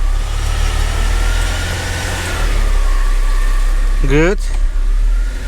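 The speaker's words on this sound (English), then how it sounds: "Okay, the wheels are spinning." A 2004–05 Mercedes CLK320 W209 V6 runs in reverse with its wheels spinning, a loud, steady engine hum close by, with a short spoken word and a rising chirp near the end.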